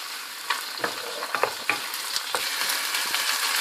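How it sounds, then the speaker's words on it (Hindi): Chicken fries with onions in a pan, giving a bright, continuous sizzle punctuated by quick spatula scrapes and taps close by, with no speech. "अब इसमें चिकन डाल के फ्राई करूँगी"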